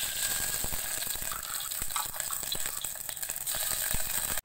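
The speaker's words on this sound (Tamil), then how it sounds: "முதல்ல 2 tablespoons நெய் விட்டுக்கலாம்." Ghee poured into a pan for almond gum payasam, a soft gushing sizzle with small clicks and crackles, continuous for a few seconds and then stopping abruptly, no voices.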